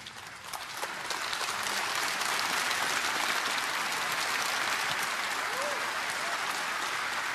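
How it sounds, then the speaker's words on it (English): Steady crowd applause carries over from another table at the 2017 Riga Masters snooker semifinals, marking Ryan Day's win over Mark Williams, a sustained wash of clapping from across the arena that runs the whole time with a voice faintly over it. "You can hear the applause for Ryan Day, just wrapping up victory against Mark Williams"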